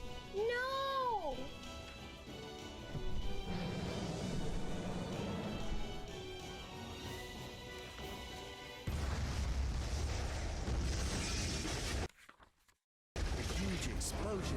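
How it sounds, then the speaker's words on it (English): A huge impact explosion in the video game SCP Secret Files, a loud booming burst with shattering debris that swells over ongoing voice narration and background game sound, briefly cutting to silence near the end. "A huge explosion from the impact drowned out everything else in the attic."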